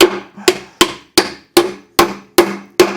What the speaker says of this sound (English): guide that nail right where I want it to go